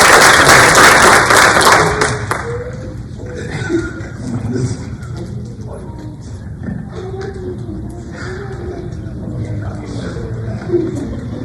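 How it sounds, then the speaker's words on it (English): Applause at a board meeting, loud and brief at the start before fading away, followed by murmuring voices and scattered light sounds in the room. "So clap it up for Mr. Mike Bradley."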